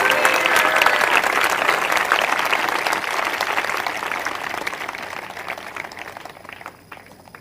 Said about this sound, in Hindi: एक जोरदार ताली प्रभु के वचन के लिए